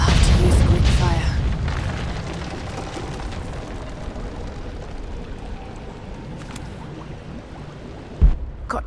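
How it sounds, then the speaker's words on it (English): A Greek fire blast in Rise of the Tomb Raider opens with a loud, deep boom that fades into a long rumbling, crackling tail, followed by a short sharp thud near the end. "Looks like I'll have to use Greek fire."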